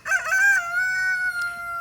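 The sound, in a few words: egg-laying chickens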